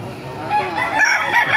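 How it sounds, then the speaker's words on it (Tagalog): A rooster crows loudly and close, a drawn-out call rising over the clucking of chickens nearby, in Baliuag, Bulacan. "papakita ko sa inyo mga manok sa baliwag yan"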